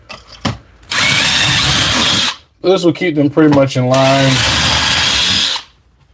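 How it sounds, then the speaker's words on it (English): A power drill bores holes in the wood of a drawer cabinet being built, with two loud, sustained whirring bursts close by. Between them the motor pulses briefly, and someone speaks. "I guess I very well could go and be extremely meticulous on how I drill these"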